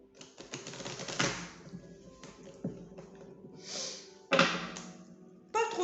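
Oracle cards shuffled by hand at close range: a fast, papery riffle of light taps and flicks that comes in several uneven bursts, with small pauses between them.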